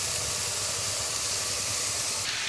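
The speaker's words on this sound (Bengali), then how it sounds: "এখানে করছি সোয়াবিনের তরকা তো সোয়াবিনটা ভাজতে বসিয়ে দিয়েছি" Soybean chunks frying in a pan give off a dense, constant hiss that holds steady throughout, close and loud, with no talking.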